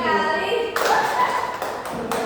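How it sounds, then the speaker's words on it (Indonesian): Students in an Indonesian classroom clap in short counted groups of taps, with a teacher's voice calling out between the claps. "tiga kali, tepuk dua kali, satu kali, tepuk empat kali"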